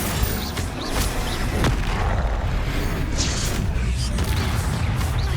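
Confringo fire spell blasts in Hogwarts Legacy combat boom repeatedly through a dense, loud wash of in-game noise, with a voice shouting over the din.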